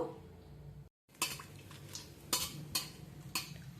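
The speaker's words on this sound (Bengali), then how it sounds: "চারটে ফাটিয়ে নেওয়া এলাচ আর তিনটে লবঙ্গ ফোড়ন দিয়ে সুন্দর গন্ধ বেরোনো পর্যন্ত আমি এটাকে ভেজে নেব" Whole cardamom and cloves frying with cinnamon in a pot for Basanti pulao, a low sizzle broken by several distinct scrapes and clinks of a spoon stirring against the metal, after a brief dropout.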